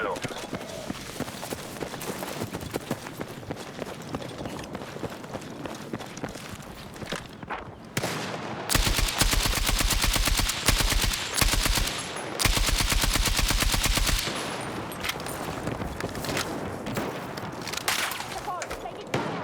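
Sustained automatic gunfire in the video game Battlefield Redsec, loud and close, with dense rapid bursts especially in the middle stretch, under radio-style voice callouts and footsteps.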